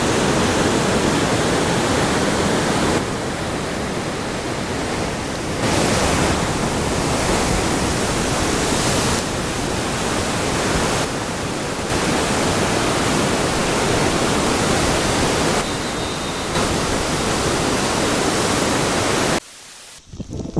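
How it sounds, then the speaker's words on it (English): Rushing tsunami water in Indonesia, a dense continuous roar of churning murky water flowing over calmer water, loud and close with broad hiss, ending abruptly near the end. "It's incredible to see how the murky and rebellious water moves over the surface of the calm ones."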